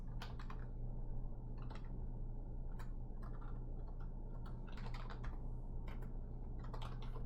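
Code being typed on a computer keyboard: quiet bursts of rapid key clicks in irregular clusters, close up over a low steady hum.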